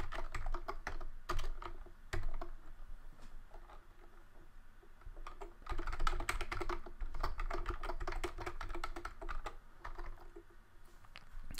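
Steady typing on a computer keyboard while coding an Objective-C tutorial, rapid clattering keystrokes in bursts throughout, close and clear with no talking.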